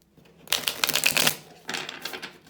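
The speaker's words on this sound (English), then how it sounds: "Oh, let me shuffle." Playing cards are shuffled by hand during a dream-interpretation reading, heard as two close, crisp riffling bursts with a short pause between them.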